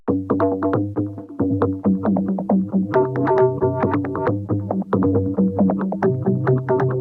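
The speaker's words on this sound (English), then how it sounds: "it's just creating these like almost reversed swells" A plucked melodic sample processed with the Scuttlebugs Portal preset, mixed lower, giving almost reversed swelling tones beneath a busy, stuttering stream of bright repeated notes that fills the whole passage.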